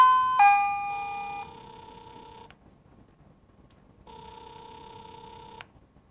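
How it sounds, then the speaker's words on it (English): An electronic chime rings from a Wi-Fi doorbell paired with an indoor doorbell unit: a bright multi-tone melody, then a second, fainter chime after a short pause, clear against a quiet room. "the Wi-Fi doorbell matches the indoor doorbell"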